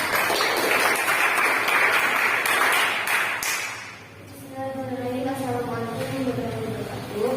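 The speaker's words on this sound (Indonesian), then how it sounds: "beri tepuk tangan untuk kelompok 3" Classmates in a classroom clap for group 3 in a lively burst of applause that lasts a few seconds, then dies away as a student begins speaking.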